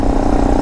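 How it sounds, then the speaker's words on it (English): Honda Monkey motorcycle with an aftermarket intake, engine droning steadily and loudly close by for a brief moment as the throttle is held open. "open up that throttle that it starts screaming"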